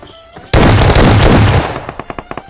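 Loud, dense burst of automatic gunfire in a battle royale shooter game, continuous for about a second, then fading into several separate sharp single shots at a steady rhythm.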